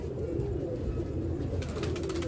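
Sialkoti pigeons coo steadily over a low, continuous background murmur, the soft throaty calls overlapping without pause.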